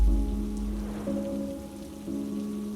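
Rain falling on a rainy night, a soft steady patter on surfaces with a low background hum and a few faint tonal shifts, continuous and moderately close.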